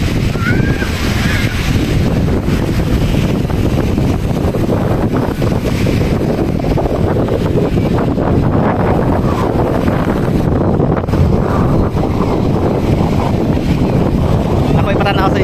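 Strong wind at Kaputian Beach buffets the microphone with a steady roar, waves and surf faintly beneath, and someone talks over it.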